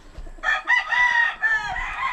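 Roosters and young stags at a small chicken farm, with one loud nearby crow drawn out over about two seconds against a quiet yard, and no voices.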